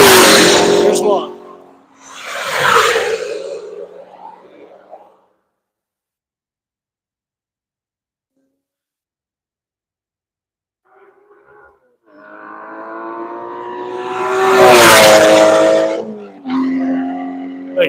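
Race cars roar down the front straight at Nelson Ledges during a Tire Rack One Lap of America session, loud passes swelling and fading, with a long quiet gap between bursts of engine noise.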